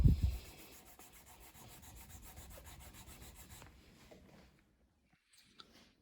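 A Stratocaster-style guitar body finished in nitrocellulose lacquer is wet sanded with 1000 grit paper on a small block, giving a soft, steady, close rubbing hiss after an opening bump that fades into near silence.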